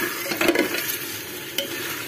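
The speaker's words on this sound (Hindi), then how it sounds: "गोश्त को मैं अच्छे से 5 मिनट इसमें भूनूंगी, अच्छे से फ्राई करूंगी मसालों में और तेल में" Meat fries in oil and spices in a pot with a continuous close sizzle, broken by a few scraping stirring clicks early on and one later, with no voices.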